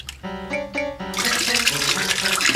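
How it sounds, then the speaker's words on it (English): Water poured from a tap into a bath, starting with a few short tonal ringing splashes and then becoming a steady hissing, gushing stream, fairly close and with no talk. "keep pouring water"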